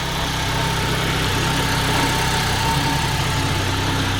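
A Saab 9-3 with a B205 engine idles steadily and smoothly after its first start, a constant low hum with no change in revs throughout.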